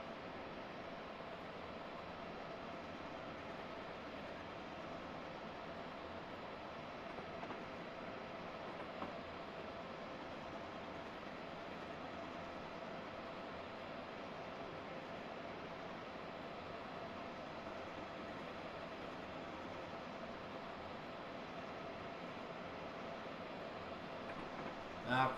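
A passenger train in the Washington-Baltimore route simulator game gradually picks up speed as the throttle is eased up, giving a steady broadband rumble and rail noise that holds evenly throughout without clear clicks or breaks.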